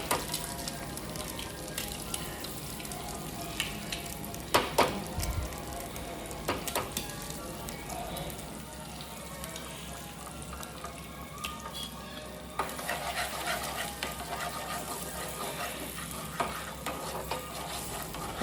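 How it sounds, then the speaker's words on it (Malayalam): Three eggs scrambling in the same frying pan used for chicken fried rice, with a continuous sizzle and frequent scraping and stirring of a utensil against the pan, occasional sharper clinks. "ഇനി അതേ സെയിം പാനിൽ തന്നെ നമ്മൾ ഒരു 3 എഗ്ഗാണ് യൂസ് ആക്കിയിരിക്കുന്നത്. അപ്പോൾ അത് നല്ലോണം ഒന്ന് സ്ക്രാമ്പിൾ ചെയ്ത് എടുക്കുന്നുണ്ട്."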